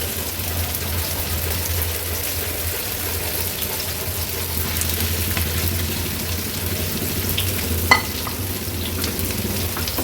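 Chicken malai seekh kebabs frying in oil in a pan over low to medium flame, a steady close sizzle with light crackle running evenly throughout, one brief sharper pop near the end.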